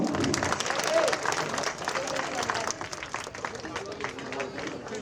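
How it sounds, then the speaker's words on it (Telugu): A crowd at a Republic Day celebration applauds to welcome MLA Prakash Goud, with dense clapping that starts strong and gradually thins, mixed with some voices. "అందరూ ఒకసారి మన ప్రకాష్ గౌడ్ గారికి చప్పట్లతో ఆహ్వానిద్దాం."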